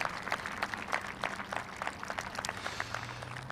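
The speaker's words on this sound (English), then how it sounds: "Give them a round of applause too." A graduation audience at an 8th grade ceremony at Sherman Oaks Center for Enriched Studies applauds the parents, with steady crowd clapping, fairly distant and moderately quiet.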